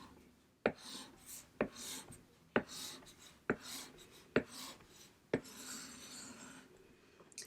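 Marker or pen drawing a chart by hand for a two's complement binary addition lesson: scratchy strokes with six sharp taps spaced about a second apart, close and fairly clear, no talking.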